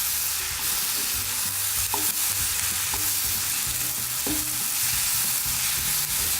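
Two chopped tomatoes cook in a pan for tamarind rice, sizzling steadily and loudly while a spoon stirs with occasional clinks against the pan, no talking.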